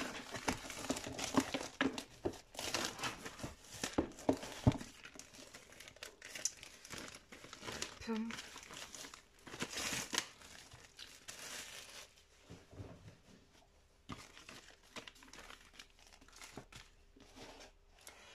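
Crinkly packaging from a Stampin' Up craft-supply order being unwrapped and torn open, with dense bursts of crumpling and rustling up close that thin out toward the end, plus a few brief spoken words.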